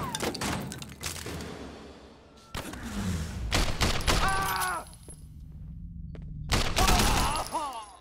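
Gunfire in the video game Sleeping Dogs comes in several loud shots and bursts of rapid fire, with thuds and other game effects between them.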